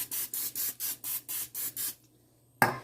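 Cooking spray is sprayed onto corn tortillas in seven quick, evenly spaced hissing bursts, close and fairly quiet, followed by a short pause and one sharper final spritz.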